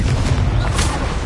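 Confringo explosive spell in Hogwarts Legacy, heard as a dense, loud, booming blast with a heavy low rumble and a brighter burst of crackle partway through, sustained for about a second.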